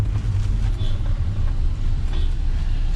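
A Mahindra Thar 4x4 CRDe drives along, with its diesel engine and the road noise forming a steady low rumble inside the cabin, punctuated by a couple of faint rattles.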